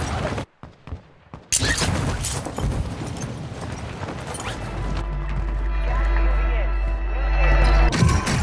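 Rapid bursts of gunfire and crashing impacts from a multiplayer shooter video game, loud and dense over a sustained low rumble, with several players talking over the action.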